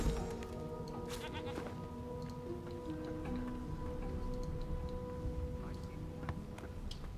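A sheep bleats in the fantasy role-playing game Divinity: Original Sin 2, heard among a low ambient game soundscape with rain-like patter and a faint tonal drone.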